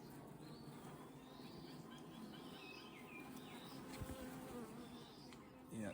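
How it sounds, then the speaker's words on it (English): Bees buzz steadily around an open nest as it is inspected, a dense continuous drone filling the whole stretch with a few louder bumps near the end. "The bees are just polishing things off."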